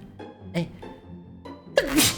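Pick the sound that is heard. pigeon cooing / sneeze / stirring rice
sneeze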